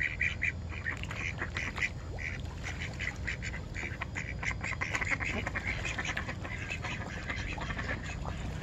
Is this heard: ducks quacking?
yes